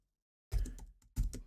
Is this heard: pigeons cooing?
no